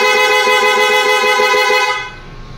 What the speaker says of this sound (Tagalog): Busina.